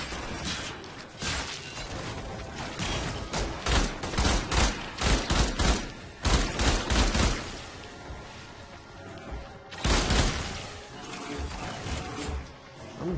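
Rapid bursts of gunfire from the video game Warframe, played with Volt Prime, crackle in dense, overlapping volleys with brief lulls between them, loud and continuous throughout.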